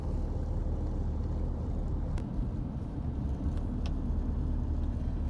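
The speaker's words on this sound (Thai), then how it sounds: "รถติดยาวเหยียดเลยเจ้า" Cars in a long traffic jam in Vientiane, a steady low rumble of idling and creeping engines heard from the roadside, with a few faint clicks and no clear voices.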